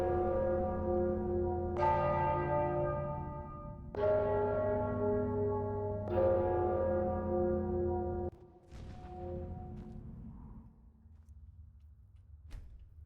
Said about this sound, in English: So, what's the deal with those bells?